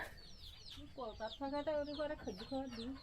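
Several chickens cluck close by in short bursts, with a brief higher call near the start and faint background noise between them.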